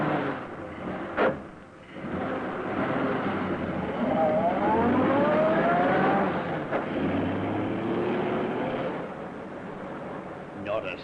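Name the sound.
car engine starting and driving away, radio drama sound effect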